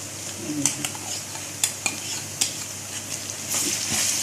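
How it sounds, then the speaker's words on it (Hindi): Soft sizzling of ginger-garlic paste frying lightly in a pan, with occasional sharp scrapes and clinks of a utensil stirring, quiet and close. "इसको हल्का सा फ्राई करना।"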